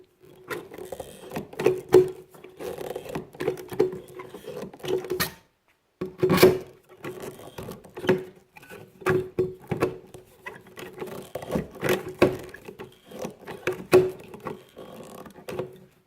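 Pop rivets fastened one after another into a flush mount rod holder, giving a steady run of sharp, close clicking snaps with a brief pause partway through.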